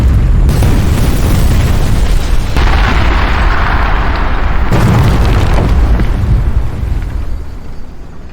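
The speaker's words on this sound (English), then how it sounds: "The communication array and the shield generator disappeared in a massive explosion" A massive explosion sound effect in a Star Wars audiobook drama, a long, loud, roaring blast with rumbling, crackling debris that shifts in intensity before slowly fading at the end.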